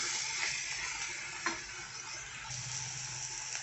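Pumpkin and onions fry in a pan for a bhaja, a steady sizzle with soft scraping and a couple of light knocks as the mixture is stirred.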